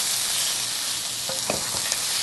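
Chicken fries in a very hot pan, making a loud, continuous hissing sizzle while it is spread around, with a few soft scraping touches near the end.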